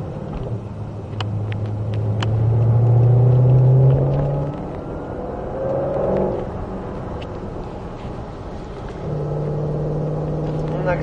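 A Shelby's engine rumbles low and steady, swelling louder as it accelerates during track driving, easing off, then building again near the end, with no talk over it.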